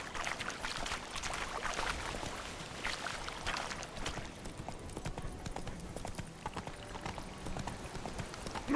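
Hooves of the horse Roach in The Witcher 3, a steady rapid clip-clop close by with faint ambient noise beneath.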